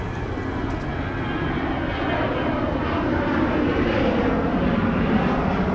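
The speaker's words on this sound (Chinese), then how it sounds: "有飞机。" A fixed-wing airplane passes overhead during a daytime walk along a tree-lined road in Chiang Mai, a steady broad engine roar that swells slightly louder toward the end, with no voices.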